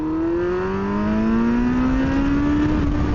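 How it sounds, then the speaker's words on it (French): Yamaha FZS 600 motorcycle from 2000, carbureted engine revving up steadily with a smooth rising drone that climbs in pitch over a few seconds, loud and close with no talking. "Et le son, les gars, c'est un régal. J'adore le son de cette moto."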